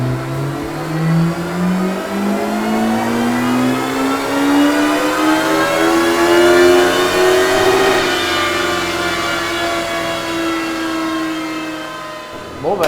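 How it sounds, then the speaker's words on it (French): A Honda CBR 1100XX motorcycle on a dynamometer revs up in a long steady climb of engine pitch, then holds high revs before cutting off abruptly, loud and close throughout. "c'est la CBR 1100XX qui passe en première sur le banc."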